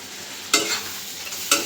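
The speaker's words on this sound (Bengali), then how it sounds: "মশলাটার সাথে মাছটা একটু কষে দিই" Shrimp being sautéed with chili powder, coriander, cumin and salt in a pan, a steady close sizzle broken by two sharp bursts of stirring scrapes, with no voices.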